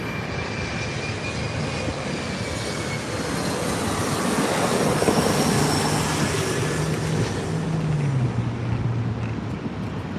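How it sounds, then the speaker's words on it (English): An Alaska Airlines jet arrives at LAX, its engine roar loud and steady across the whole stretch, with a descending whine near the end as it passes low and close. "Alaska Airlines arriving."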